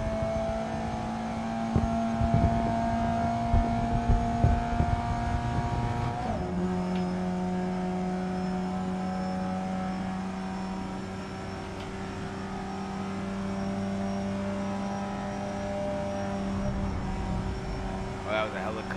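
In a street racing video game, car engines drone and rev continuously, with the pitch shifting as gears change. A shrill tire-squeal tone cuts in partway through, and someone talks over parts of it.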